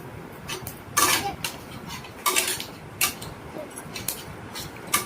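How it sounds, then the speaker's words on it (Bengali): A spoon scrapes and taps around a pan as cumin is stirred, giving several sharp metallic clinks and scrapes at irregular intervals over a quiet background. "জিরেটাকে অ্যাড করে নিয়ে একটু নেড়ে চেড়ে নেব"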